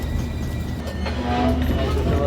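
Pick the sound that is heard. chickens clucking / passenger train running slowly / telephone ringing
passenger train running slowly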